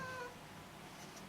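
A cat meows once, briefly and faintly, in a quiet room, with a soft hum underneath.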